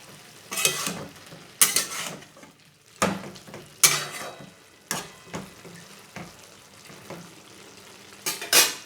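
A spoon stirs bathua greens cooking with potato and eggplant in their own released water in a pan, repeated close scraping and clinking strokes every second or so over a soft simmering hiss.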